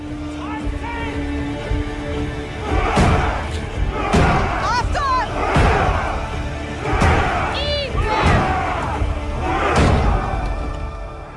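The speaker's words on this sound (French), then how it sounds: "Ils arrivent avec leurs béliers et tentent d'enfoncer la porte" Battering rams pound a fortified gate at a bridge over the Seine during a Viking siege, a series of heavy rhythmic thuds about once a second, with shouting crowd and cries beneath and someone narrating throughout.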